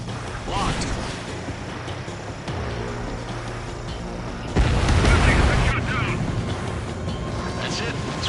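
An enemy bomber in Ace Combat 7 is shot down and explodes, a heavy rumbling blast that swells loudly midway over continuous jet and combat noise, with radio chatter in the background.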